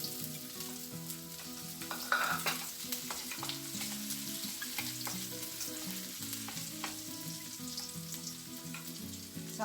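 Garlic fries in a pan for fish escabeche, giving a soft, continuous sizzle with scattered faint crackles. It is fairly quiet and sits under steady background music.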